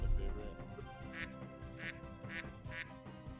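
A soundboard duck-quack button pressed repeatedly, giving several evenly spaced nasal quacks over a faint background of game music, fairly quiet and close.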